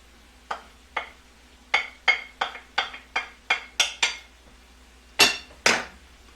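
Garlic being stirred in a pan of oil, a utensil clinking and scraping against the metal in a steady run of about a dozen sharp taps, close and loud, with two heavier knocks near the end.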